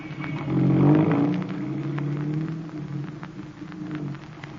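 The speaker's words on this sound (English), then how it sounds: "Now, where's my car? I told Henry to wait" A radio drama sound effect of a car driving off, its engine swelling to a rev early on and then a steady motor hum that slowly settles, with no talk over it.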